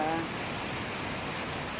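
Rain falling outdoors on hot pavement and garden plants, a steady dense hiss of drops that holds evenly throughout, close and without pause.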